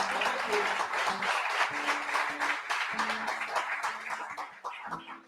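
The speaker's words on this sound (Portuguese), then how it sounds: "Aplaudam a Jesus" Church congregation applause with dense clapping throughout, joined by voices and sustained tones, fairly loud and steady before tapering near the end.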